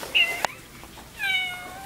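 A cat gives two clear meows, a short high one and then a longer, drawn-out call a second later, fairly close and loud in a quiet setting, with a brief knock between them.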